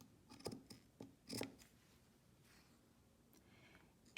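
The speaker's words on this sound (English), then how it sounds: "So I'm going to cut them out now." Scissors cut out fabric pieces for a lined pojagi seam, giving a few faint, close snips and crisp blade closes early on, then quieter rustling and small snips.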